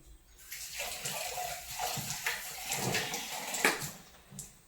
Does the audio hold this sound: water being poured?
yes